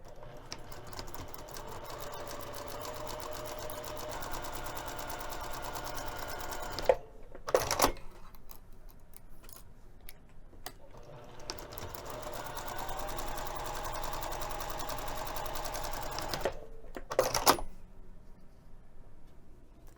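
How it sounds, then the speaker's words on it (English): A sewing machine stitching both long edges of fabric for a messenger bag with a quarter-inch seam allowance, running in two long steady whirring bursts with brief pauses between them, close and clear. "We're going to be sewing both of the long edges using a 1/4 inch seam allowance."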